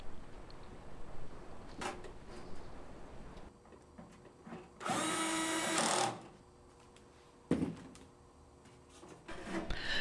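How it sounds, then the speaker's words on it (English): Screws are driven with a power screwdriver to temporarily reattach the bottom pan of a Paragon SC-Series kiln, a loud whirring burst of about a second in the middle, with scattered clicks and handling knocks before and after. "Temporarily reattach the bottom pan to the kiln using two screws."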